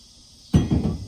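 A heavy trailer hitch slides into its receiver, a sudden metallic clunk followed by a short scraping rattle, close and fairly loud after near silence.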